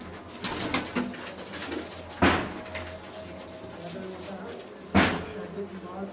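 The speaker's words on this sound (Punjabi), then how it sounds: "ਚੈਂਪੀਅਨ ਕਬੂਤਰ ਦੀ ਨਿਸ਼ਾਨੀ ਹੈ" Pigeons on a rooftop loft in Gujranwala make soft cooing sounds, broken by a few sharp knocks or bumps, with someone talking nearby.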